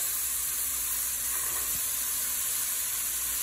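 Garlic with chayote and carrot sautéing in a hot pan gives a steady, close, even sizzle and hiss with no break.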